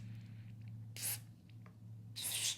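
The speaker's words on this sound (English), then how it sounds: "Get some deoxit. Spray, spray, spray." DeoxIT contact cleaner sprayed onto the electronics of a Squier Stratocaster guitar: two short, hissing aerosol bursts over a steady low electrical hum, the second burst longer and louder.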